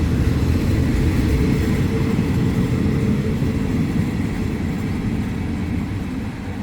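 A train hauling freight wagons loaded with trolleys and equipment gives a steady, loud, low rumble that eases slightly toward the end, with no voices.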